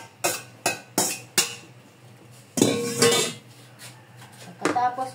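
Chopped green onions are moved into a bowl and stirred, with a utensil sharply clinking against the bowl several times in quick succession, then a few scraping knocks and one more clink, close up.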